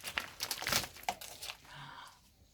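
A Gerber knife slices through the packaging on a Samsung tumble dryer, producing close crinkling, tearing and scraping of plastic and cardboard that fades out toward the end.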